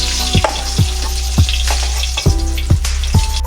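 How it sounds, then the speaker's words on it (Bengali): Panch phoron spices sizzle and crackle in hot oil during a tomato fish curry, with a steady frying hiss and sharp, evenly spaced pops and spatters heard close up. "গরম তেলের মধ্যে আমি 1 চামচ পাঁচফোড়ন দিয়েছি।"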